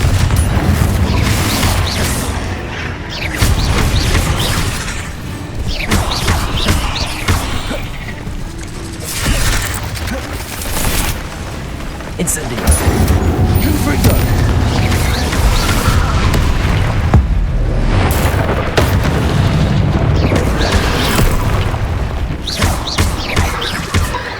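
Repeated loud magical blasting explosions from Confringo spells in the Hogwarts Legacy video game on PS5, booming and crashing one after another through a dense, continuous stretch of combat with whooshes and impacts.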